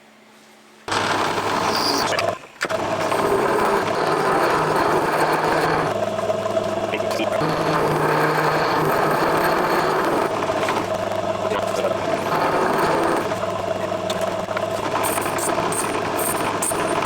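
A small lathe runs steadily while cutting a shoulder on a tiny metal oil can part, a continuous mechanical whir with shifting tones as the cut changes, starting abruptly after a quiet opening.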